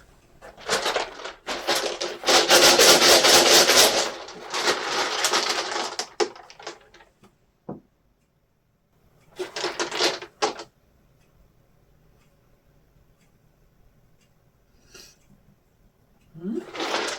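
Dice are shaken and rolled on a table during a tarot reading: a long loud rattling clatter, a sharp single click, then a shorter burst of rattling and a last rolling clatter, separated by near silence.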